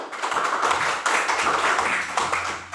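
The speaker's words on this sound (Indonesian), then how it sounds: "Bagus, tepuk tangan dulu temannya." Children in a classroom clap their hands for a classmate, a loose, ragged burst of nearby clapping that swells and dips unevenly across a few seconds.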